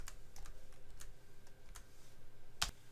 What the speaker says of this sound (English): So we click there, type in,